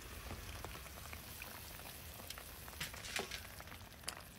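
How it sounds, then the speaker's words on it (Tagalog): Saba bananas fry in a pan while pork humba boils nearby, a quiet, steady sizzle with scattered crackles and pops, low and close with no talking. "Habang nagpapakulo tayo ng ating humba ay ipiprito ko na itong ating saba."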